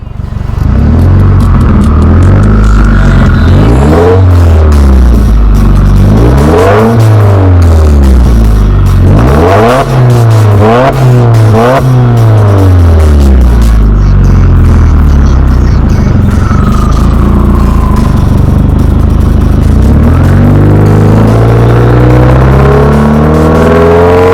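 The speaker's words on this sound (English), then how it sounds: "as well as the sounds of the exhaust" A Subaru WRX with an aftermarket exhaust revs repeatedly, rising and falling in sweeping bursts of throaty roar, with idle rumbling between the revs.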